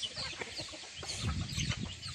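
Hens clucking and murmuring in a busy flock, low throaty calls repeating close by against a steady noisy background.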